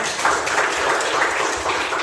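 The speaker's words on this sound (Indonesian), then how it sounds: "kalian tepuk tangan buat kalian." Students clap for themselves in an Indonesian classroom, a soft, steady patter of many hands that stays even and fairly muffled throughout.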